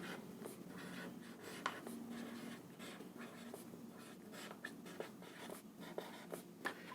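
A pen scratches across paper in short strokes and taps, faint and close, the scribbling coming in small bursts over quiet room noise, with no talking.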